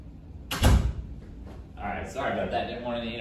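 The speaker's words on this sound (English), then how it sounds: "Let me close this door real quick." A classroom door shuts with one loud, close thud early on, followed by faint rattles and then someone talking.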